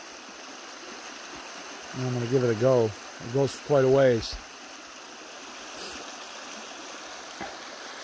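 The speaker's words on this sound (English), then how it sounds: "Beautiful brook." A small tea-colored brook near a cabin flows with a soft, steady trickle and gurgle in the background while someone speaks briefly up close.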